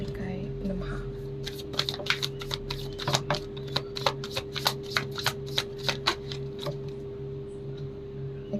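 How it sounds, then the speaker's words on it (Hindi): Tarot cards being shuffled in a steady run of crisp riffling flicks, close and fairly loud over a constant low electrical hum, the flicks thinning out and stopping near the end. "मैं एक लास्ट शफल और कर लेती हूँ"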